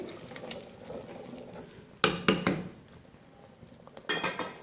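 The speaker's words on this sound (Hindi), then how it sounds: "अब थोड़ी सी दाल हम पैन के अंदर शामिल करेंगे।" Moong lentils are added to a cooking pan and stirred, giving two clusters of sharp metallic clinks and scrapes from a spoon against the pan over a quiet background, with no one speaking.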